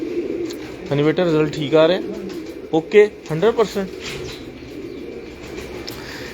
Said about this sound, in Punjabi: ਕਬੂਤਰਾਂ ਦੀਆਂ ਠਾਪੇ ਦੀਆਂ ਆਵਾਜ਼ਾਂ ਤੁਹਾਨੂੰ ਆ ਰਹੀਆਂ